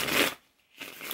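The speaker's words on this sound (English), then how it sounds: "let's pull you guys three more cards" A deck of cards is shuffled for a tarot reading in two brief riffling bursts split by a short pause, close and fairly soft.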